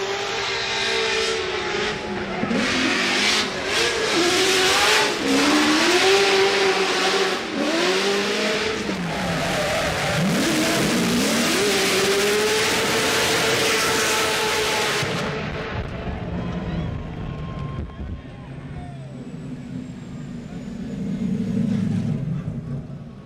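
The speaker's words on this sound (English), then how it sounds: "Let's listen to the LS Power BMW Trenton Beecham." A powerful LS V8-powered BMW drift car engine revs hard and roars up and down with tire squeal, then fades away while another engine rumbles more faintly, at a Formula Drift competition.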